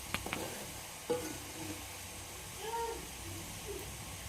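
Hog plums with salt are stirred in a pan while making pickle, producing a faint, soft sizzle with a few quiet scraping strokes of the spoon against the pan.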